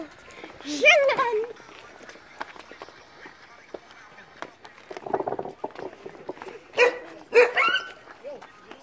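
A young puppy gives a few short, high yips and barks close by in bursts, with quiet gaps between them and some light rustling.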